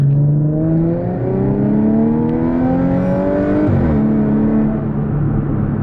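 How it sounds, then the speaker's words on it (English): Audi S4 exhaust heard from inside the cabin with the windows closed, a steady, loud engine drone that climbs in pitch through the gears under acceleration, with one shift dip near the end; no talking. "So this is what the car sounds like, basically with the windows closed in the winter or in the summer if you have the AC on."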